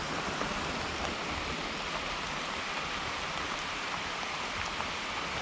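Steady rain falls during mushroom foraging among eucalyptus trees, a soft even hiss of drops with no voices.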